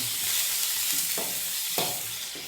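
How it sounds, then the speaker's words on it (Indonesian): Ground spice paste fries in a pan for stir-fried fern tips, a bright continuous sizzle with a few soft scraping stirs of the spatula. "kita masukkan bumbu tumisnya, bumbu halusnya ya maksud saya"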